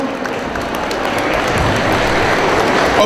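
A roomful of attendees at a Greek UNESCO club pita-cutting event in Chalkida gives a loud, warm, sustained applause, dense and unbroken throughout.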